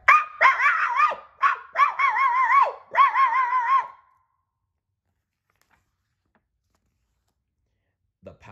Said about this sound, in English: He ran down the street to the fire station, barking all the way.